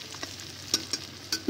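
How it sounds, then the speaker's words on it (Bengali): Fried potatoes are stirred in a pan while cooking traditional mutton kosha, a soft sizzle with a few sharp scraping and clinking knocks of the spatula. "আলুটা ভাজা হয়ে গেছে"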